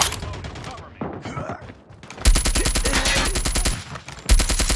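Rapid automatic gunfire in the mobile shooter Call of Duty Mobile, with loud, close bursts of evenly spaced shots, a short lull with game voice lines, then sustained fire resuming.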